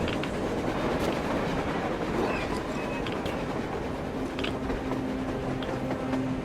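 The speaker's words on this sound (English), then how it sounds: "A damn train on the surface!" A steady, continuous rumble of a train rolling along on the surface in the video game Metro Exodus, with faint clattering and hiss, held at an even level throughout with no voices.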